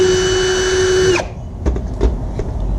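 A power drill whines steadily for about a second while backing Phillips head screws out of a Honda Civic brake disc, then cuts off abruptly, followed by a few light metallic clinks and taps.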